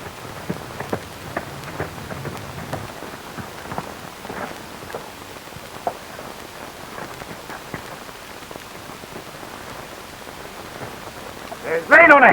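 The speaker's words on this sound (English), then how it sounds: "There's rain on the hill." Light rain patters steadily on a surface, soft and continuous, with scattered drips and a faint clopping; a voice breaks in at the end.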